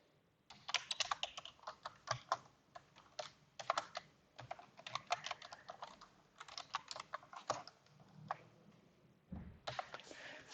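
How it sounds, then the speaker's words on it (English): Typing on a computer keyboard with quick, irregular clusters of clicks and short pauses, heard alone over a faint room hum. "So let me type this one first."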